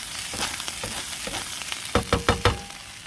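Cold cooked rice stir-frying in a hot pan on an outdoor patio gives a loud, steady sizzle, then a run of four sharp popping bursts near the end as the rice starts jumping like popcorn.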